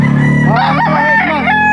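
A gamecock at a poultry auction crows once, a loud, close, rising-and-falling call of about a second over steady background noise.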